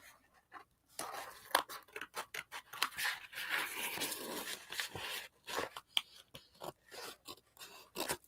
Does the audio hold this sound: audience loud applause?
no